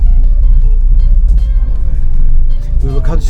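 A car climbing a steep hill in first gear as gas is added, the engine a low steady rumble that swells slightly toward the end, with a person talking over it.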